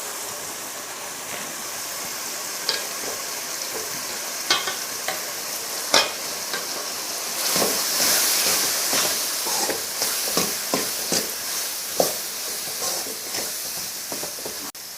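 Masala powders, sambar powder, chili and coriander powder, sizzle steadily in a pan while a spoon scrapes and stirs in irregular taps and clinks, close and continuous without talk.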